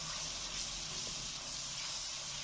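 Ginger garlic paste, a tablespoon of it, frying in a pan while cooking chicken korma, giving a steady, close, even hiss with no talking over it.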